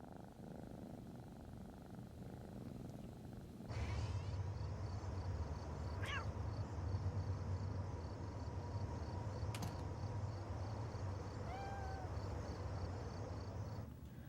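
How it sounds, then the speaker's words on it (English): A cat purrs in a soft, continuous rumble close by, with a few brief high meows breaking through partway along. "It was a cat."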